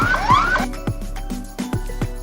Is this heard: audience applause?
no